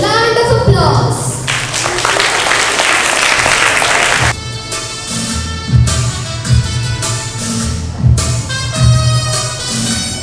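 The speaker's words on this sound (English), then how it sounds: "Let's welcome Group 1 on the stage with a huge round of applause." A school audience at a patriotic singing competition claps in a loud burst of applause for a student group, then music and children's singing take over with steady drum beats.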